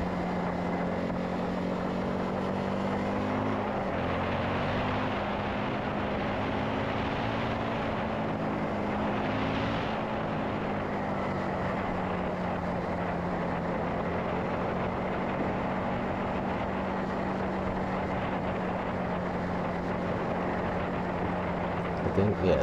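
A bagger motorcycle rumbles past during a ride through twisty roads, with a steady low engine drone that swells briefly around the middle, mixed with constant wind and road noise from the rider's own bike.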